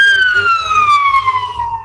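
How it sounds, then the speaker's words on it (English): An ambulance siren passes a street protest in Coos Bay, Oregon, its loud wail sliding steadily lower in pitch as it goes by, with low traffic rumble beneath. "we got ambulance going by"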